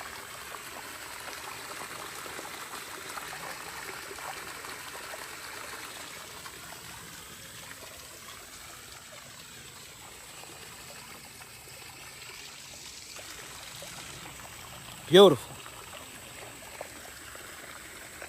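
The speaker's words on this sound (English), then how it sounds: "I just wanted to show y'all that we do got the water back running. Look, just listen to it." Running water trickles and pours steadily in an outdoor stream, a soft continuous wash that carries through the whole stretch, with one brief spoken word near the end.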